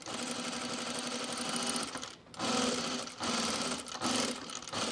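Sewing machine stitching bias binding onto a cocoon project bag, a steady close mechanical whir running continuously with brief dips where the stitching pauses.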